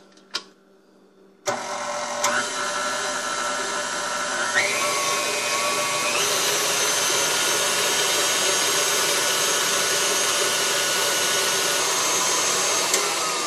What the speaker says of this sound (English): And we will mix this on medium for about 3 minutes.